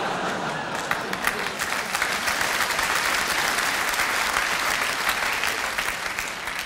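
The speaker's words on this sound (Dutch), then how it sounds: "ik weet niet waarom u nou klapt trouwens" Steady, loud applause from a theatre audience during a comedy performance, dense continuous clapping that holds evenly throughout without pauses.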